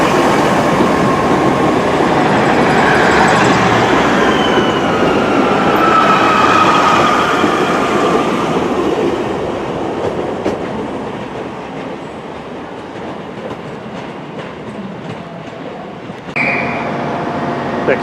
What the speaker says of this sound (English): Next out, the 1533 ARRIVA Trains Wales Service to Birmingham International.